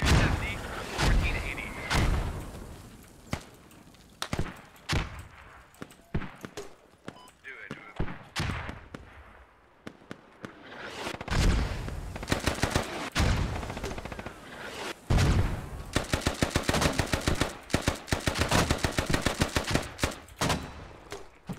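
Gunfire in the military shooter game Squad, with bursts of sharp shots and rapid volleys scattered across the span, some close and loud, others more distant, between quieter stretches with occasional talk.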